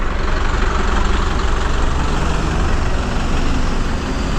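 Vehicles idling in a traffic jam on the muddy Amba ghat road, with a continuous loud low engine rumble of trucks and buses close by, steady and unbroken.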